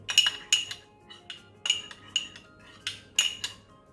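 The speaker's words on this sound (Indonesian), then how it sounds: "ini kuning telurnya kita aduk sedikit, kasih airnya dikit" A utensil stirs egg yolk with a little water in a bowl, producing repeated bright metallic clinks in an irregular rhythm, close and distinct with no talk.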